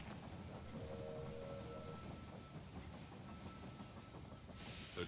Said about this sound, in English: Train has arrived at the station.